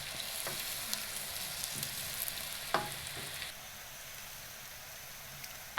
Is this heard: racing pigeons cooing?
no